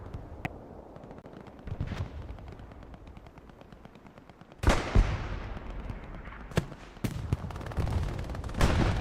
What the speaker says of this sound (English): As we hear that half track exploding in the background